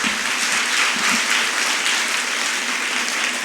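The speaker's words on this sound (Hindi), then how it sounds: "एक बार तालियां बजाइए बच्चों के लिए।" Steady applause from an audience at a school Republic Day celebration honouring the children, a dense wash of many hands clapping continuously at close range.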